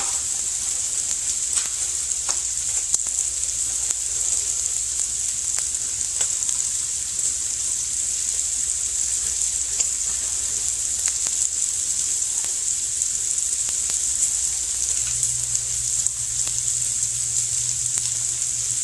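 Shredded slaw sizzles and crackles steadily in a hot pan on a home stovetop, a continuous bright frying hiss with no talking, holding at an even level from start to finish.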